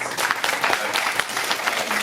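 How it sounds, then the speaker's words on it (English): An audience claps steadily for the panelists at the close of a panel discussion on migrant workers, a dense, fairly loud wash of many hands heard alone without speech. "If you can all join me in giving our panelists a round of applause"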